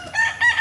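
A gamecock rooster crows close and fairly loud in a single short burst with a rising then wavering call.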